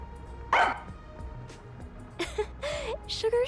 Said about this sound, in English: She barks at me all the time.